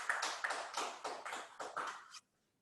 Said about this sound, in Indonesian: tepuk tangan buat Mbak Sherly